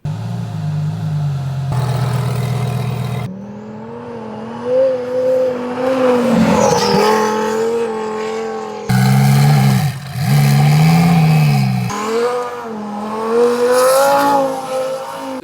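A Lamborghini Huracán Sterrato driven off-road over rocks revs loudly and close, its engine note rising and falling across several abruptly cut segments, with tyre noise showing briefly.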